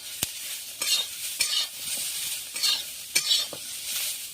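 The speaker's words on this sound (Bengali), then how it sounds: "দেখুন, খুব অল্প তেল দিয়েই নাড়ছি।" Food frying in a little oil sizzles softly in a pan while a utensil stirs and scrapes through it, leaving several sharp clacks and swishing bursts spaced irregularly over a light, constant hiss.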